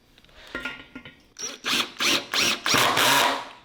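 A power drill removes bolts from a simple wooden beginner bench, running in about five short, loud whirring bursts after a quieter start, each separated by a brief pause.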